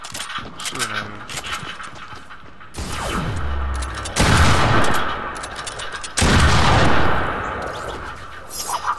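Video game gunfire rings out in bursts of rapid shots and sharp impacts, loud and close, with a few heavier blasts.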